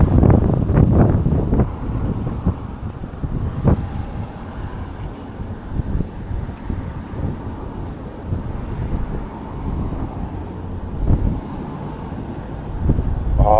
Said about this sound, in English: Oh, maybe not with that wind.